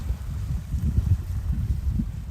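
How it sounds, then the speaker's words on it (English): A trawler out at sea off Gosport, heard as a steady low rumble that rolls on without a break, faint and distant beneath the wind. "I hear a boat out there, probably a trawler going."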